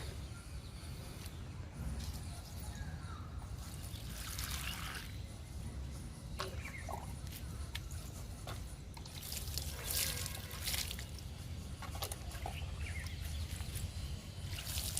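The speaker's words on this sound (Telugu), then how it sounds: "ఇప్పుడు వాటర్ ఇస్తున్నానండి లైట్గా" Water is given lightly to potted garden plants, making a faint, steady trickle and patter of liquid over a continuous low background hiss, with no voices.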